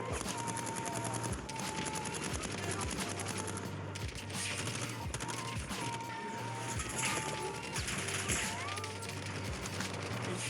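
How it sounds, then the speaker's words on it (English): A Gatling gun firing in Warzone, a steady, unbroken roar of rapid shots with a faint voice somewhere in the background. "Good Gatling gun."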